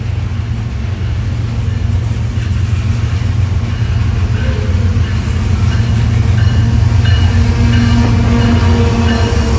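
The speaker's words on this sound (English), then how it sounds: "It seems as just as one train passes, another one is rounding the bend." A train rolls past in Chattanooga, Tennessee, a loud, close, continuous rumble of wheels and cars that holds steady and swells slightly throughout.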